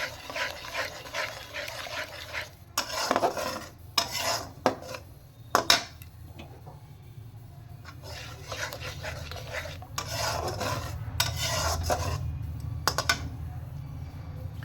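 Potatoes for aloo dum are sautéed in a pan with a metal spatula, giving scraping and clattering strokes in irregular bursts over a low, steady frying hiss. The sound is close and moderately quiet, and no one speaks.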